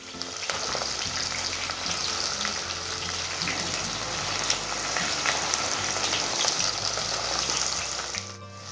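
Green chillies and onions frying in a pan, a loud, steady sizzle with crackling spits and occasional stirring scrapes throughout.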